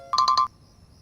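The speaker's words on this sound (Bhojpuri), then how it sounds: "जानकी ऑफिस से बहुत अर्जेंट फोन आइल बा" A phone ringtone for an incoming call plays a short, clear burst of three quick electronic tones, close and alone, then cuts off to near silence.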